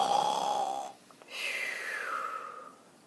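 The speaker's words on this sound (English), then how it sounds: "Daddy's snore rumbled like an earthquake." A father snoring, two drawn-out wheezy snores separated by a brief pause, close and moderately loud.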